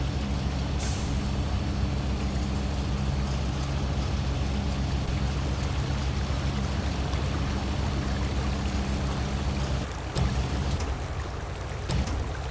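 Truck crane outriggers deploy in the off-road driving game SnowRunner, a steady hissing, pneumatic-like rush over an idling engine hum, continuous and fairly loud with a brief clunk near the end.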